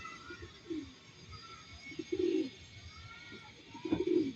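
Racing pigeons coo softly after a 247 km derby race in the Philippines. A few low cooing calls come in short bursts over faint background noise, with no talking.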